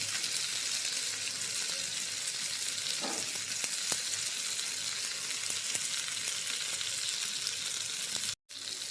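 Masala sizzles steadily in hot oil, a close, constant crackling hiss with a brief stir partway through and no speech.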